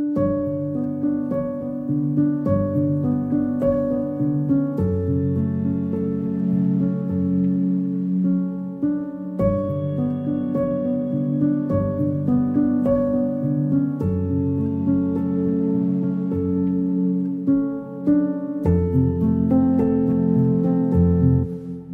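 A film-scoring guitar sample library patch layered with a Woodchester guitar patch plays a steady harmonic passage of sustained, ringing chords, with notes changing every couple of seconds at an even level throughout.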